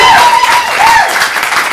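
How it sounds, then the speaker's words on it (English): An audience claps and cheers loudly, dense applause mixed with whoops and whistles filling the space continuously. "So can I have that amount of clapping and cheering, please?"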